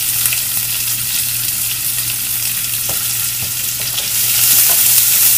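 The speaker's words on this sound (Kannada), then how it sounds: "ಈರುಳ್ಳಿ ಎಲ್ಲ ಸಾಫ್ಟ್ ಆಗೋ ತನಕ ಅದನ್ನ ಬಾಡಿಸ್ಕೊಂಡ್ಬಿಡಿ" Chopped onions sautéing in a pan for dal give a steady, close sizzle with scattered soft stirring clicks; the frying grows slightly louder toward the end, and no one speaks.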